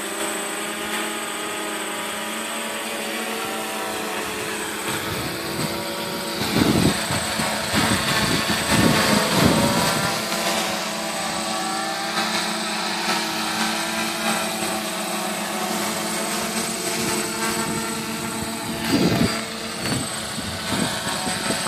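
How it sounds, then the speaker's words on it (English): DJI F550 hexacopter drone hovering under light load on a LiPo battery in somewhat strong wind, a steady high-pitched multi-rotor buzz with bursts of wind rumble and gusty buffeting, no talk. "this is easy hovering flying, so there's not a whole lot of load on the whole unit"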